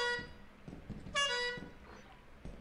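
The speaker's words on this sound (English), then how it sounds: "Oh, I found a clown horn." A clown horn in the video game Lethal Company honks a few times, bright tonal toots, one longer and louder blast in the middle, with faint background game noise.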